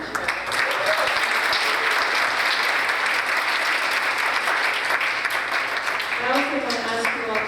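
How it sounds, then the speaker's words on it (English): An audience at a youth mental health symposium applauds the Deputy Chair, dense even clapping from a sizable room that holds steady for several seconds, with a voice briefly audible near the end. "Another round of applause for Deputy Chair."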